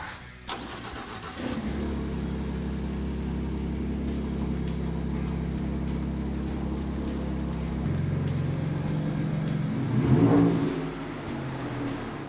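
A Ford F-150 3.5L EcoBoost with twin-turbo Borla exhaust fitted cranks and fires up, then settles into a steady, deep idle with a brief rev swell near the end, close and loud, no talk.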